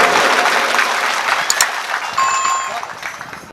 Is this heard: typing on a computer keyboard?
no